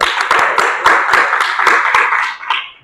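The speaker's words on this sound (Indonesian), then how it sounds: "tepuk tangan buat kelompok 3." A classroom of students clapping for a presenting group, sharp distinct handclaps in a quick irregular rhythm, fairly close and loud, tapering off toward the end.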